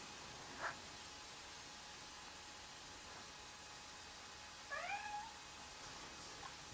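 A cat gives one clear meow, fairly distant and soft, standing out over steady hiss and static inside an old manor, with a faint tick earlier and no talking.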